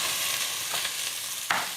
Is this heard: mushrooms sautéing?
yes